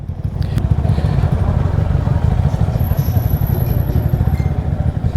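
A motorcycle engine idling and rumbling steadily close by, a low throbbing drone with a faint high whine above it.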